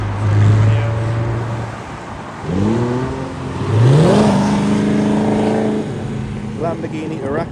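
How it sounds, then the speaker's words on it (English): A Lamborghini Huracan supercar drives past at a supercar event, its engine note rising and falling through revs, loud and close, with people talking over it. "Lamborghini Huracan, you don't see many of these around the UK."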